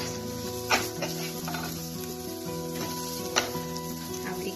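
Grated coconut is stirred into a sizzling pan for a royal coconut curd-chura dish, with a steady close fry hiss, a faint tonal hum and a couple of soft spatula knocks.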